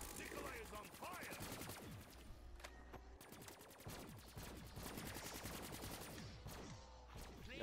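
Rapid automatic gunfire from a video game rattles in continuous dense bursts, loud and close, with players' voices shouting over the shooting.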